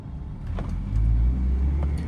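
A car engine hums low and steady during a driving lesson, its rumble swelling as the car gathers speed, then holding at a louder, even drone.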